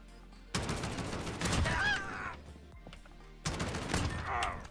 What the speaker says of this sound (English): Hip fire shots for the win!